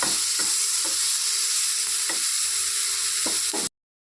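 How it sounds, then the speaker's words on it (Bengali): Continuous loud sizzling of eggplant slices frying in oil, with occasional soft clinks of a utensil against the pan, ending abruptly. "বেগুনটা একটু লাল লাল করে ভাজতে হবে"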